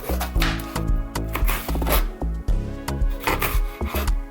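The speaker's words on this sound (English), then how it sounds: "when cutting these, I do want them like strips, so I'm gonna more so cut them like this" A knife slicing a bell pepper into strips on a cutting board: a steady run of close, crisp chops and scraping cuts, repeating about every half second with no talking.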